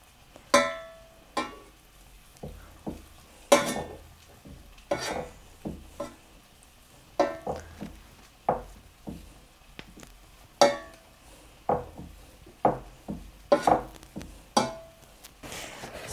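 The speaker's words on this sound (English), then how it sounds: "Then the first thing I do is I mash it with this." A hand masher pressing boiled potatoes in a pot for sausage and mash, giving a steady run of sharp knocks and thumps roughly every half second, close and fairly loud, with no talking.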